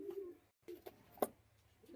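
A pair of Kaldama Madras pigeons cooing softly nearby, a few low throaty coos with a brief pause and one sharper burst of wing or body noise partway through.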